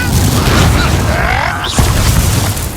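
Incendio fire spell cast during a Hogwarts Legacy duel, a loud whooshing boom of flame with a sharp burst partway through, close and dense amid game effects.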